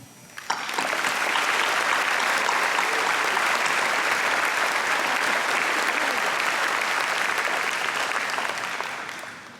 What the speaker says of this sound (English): Let's pause here to applaud the teachers who contributed to, the parents who worked with, and the students who worked towards this remarkable achievement.